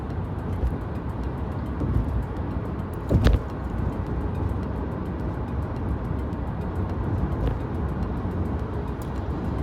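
A car cruises along a major New York City highway, the Belt Parkway, with steady broadband road and engine noise throughout and a brief louder thump or passing sound near the three-second mark.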